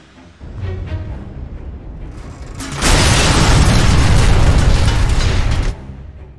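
A building blows apart in the Fire Department game, with a rumbling buildup followed by a loud, sustained roaring blast that cuts off abruptly.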